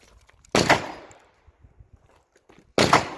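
Two loud, close revolver shots from a Taurus Judge Public Defender fired at a target outdoors, each a sharp crack with a decaying tail, spaced about two seconds apart with quiet between.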